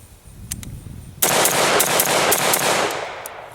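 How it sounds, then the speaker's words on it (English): Rapid AR rifle shots fired with a bird cage flash hider, a few faint pops followed by a loud, dense burst of fast shots that rings on and trails off outdoors. "We'll take a few more shots, same distance, same box, as fast as we can keep those rounds on target"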